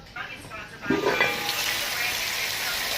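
Food sizzles steadily in a pan during home cooking on a snowy day, a broad hissing crackle that swells after the first second and holds at a constant, fairly close level with no talking.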